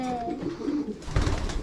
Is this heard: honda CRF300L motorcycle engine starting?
no